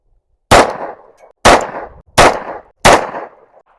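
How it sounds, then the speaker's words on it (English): A Rost Martin RM1C pistol firing Federal HST 124 grain +P hollow point rounds at a range, four loud, sharp shots about a second apart, each with a short ringing decay, no talk. "We're going to test some hollow point ammunition. This is 124 grain plus P plus Federal HST."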